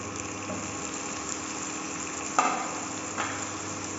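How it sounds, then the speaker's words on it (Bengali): Chopped tomatoes fry in a pan with chillies and spices for paneer bhurji, a steady close sizzle with a couple of brief louder spurts as ingredients shift. "সব কিছুকে অ্যাড করে ফ্রাই করতে থাকবো। এরপর এর মধ্যে অ্যাড করবো টমেটো কুচি"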